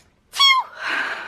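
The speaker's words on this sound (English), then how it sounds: "let's discuss that sneeze. Yes, it's a genuine sneeze." A single genuine human sneeze, loud and close: a sharp rising intake that breaks into a bright voiced burst, followed by a breathy hissing release that trails off.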